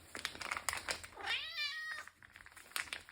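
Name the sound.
cat meowing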